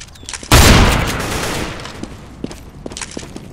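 In a Counter-Strike match, one loud, close gunshot blast rings out and decays over about a second, followed by quieter scattered clicks and steps.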